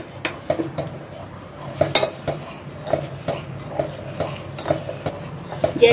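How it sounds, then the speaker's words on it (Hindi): A spoon stirs vanilla custard mix into milk in a pot for bread custard, scraping and clinking against the metal in quick repeated strokes, close and fairly clear, with no one talking. "अब मैं अपने दूध के अंदर इसको मिक्स कर दूंगी और जल्दी से इसको चलाना है"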